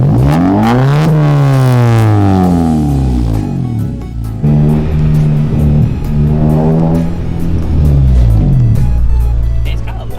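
A tuned ninth-generation Honda Civic Si engine revs hard, its note rising and falling in sweeping arcs, then settles into a burbling idle with crackles and pops, loud and close as if heard from inside the cabin.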